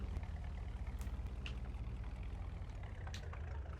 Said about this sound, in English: Get this tractor off.